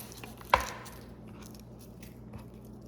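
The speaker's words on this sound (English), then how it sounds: "I'm gonna chop as finely as I can the shallot" A knife chopping a shallot finely on a cutting board, one sharp distinct chop near the start and a softer tap later, under a steady low hum of kitchen background.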